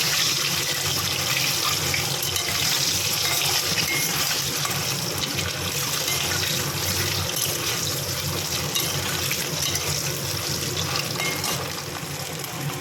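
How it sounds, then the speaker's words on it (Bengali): Large duck eggs fry in hot oil in a wok, giving a steady, loud, continuous sizzle and crackle that runs without a break. "একটু ভালো করে ভেজে নেবো ডিমগুলো"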